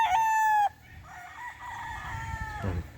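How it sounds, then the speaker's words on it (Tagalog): Roosters crow at a game farm raising gamefowl: one loud, close crow rings out at the start, followed by another, fainter and more distant crow behind it, with no voices. "Ang daming manok ni Sir Mau dito sa may Taxman."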